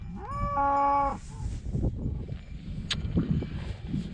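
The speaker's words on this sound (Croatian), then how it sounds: "Ne znam šta će ove krave da rade sad ovdje" A cow lets out a long, loud moo nearby on a roadside in Spain, followed by shuffling movement and faint outdoor noise.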